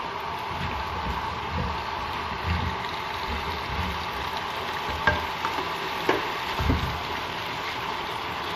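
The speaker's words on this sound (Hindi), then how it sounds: "अरबियों को 1 मिनट इस तरह घी में फ्राई करने से इसका टेस्ट बहुत अच्छा आता है।" Taro root (arbi) frying in ghee over full flame, a continuous loud sizzle with occasional stirring scrapes and knocks of the spoon, close by and without any talk.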